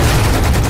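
Dense, loud gunfire from a helicopter in the Lost Planet 2 game, heard as a short, continuous roar of rapid shots with a heavy low rumble and no pauses.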